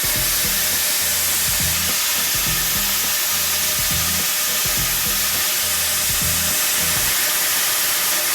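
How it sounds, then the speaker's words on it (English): Trout sautés in butter in a pan, giving a constant close sizzle with soft low bumps of movement underneath. "saute that trout in a little butter"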